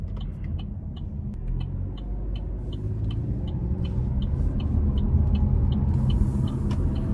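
A 2025 Buick Encore GX with a turbo three-cylinder engine driving, heard from inside as a steady low road rumble and engine drone that swells gradually, with a regular faint ticking running over it.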